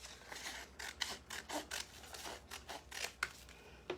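Scissors snipping through material, a rapid series of short crisp cuts in an uneven rhythm, close and fairly quiet, with no talking.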